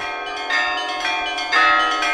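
Church bells ring in overlapping metallic strikes, resonant tones swelling twice as new peals sound, with no voices.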